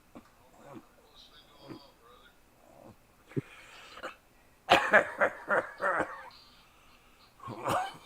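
A person coughs in a quick burst of several harsh, close coughs in the middle, with quieter breaths and throat sounds before and after, at a low overall level.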